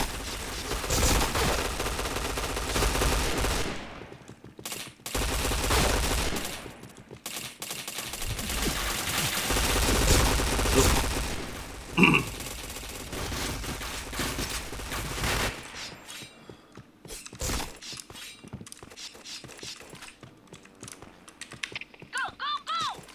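Rapid video game shooter gunfire crackles in loud dense bursts through the first half, dropping to scattered, quieter shots and clicks later on.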